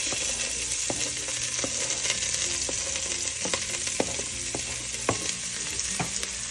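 Onion frying in a pan for arroz caldo, a steady close sizzle with repeated scraping and clinking as the pieces are stirred, heard alone without talk.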